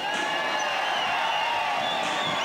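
Indoor arena crowd at a 1998 motorcycle trial event in Bucharest, a steady broad roar of cheering and whooping sustained throughout, loud and continuous with no single voice standing out.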